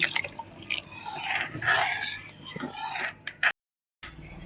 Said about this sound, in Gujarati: આપણે અડધી ગ્લાસ જેટલું પાણી રેડીશું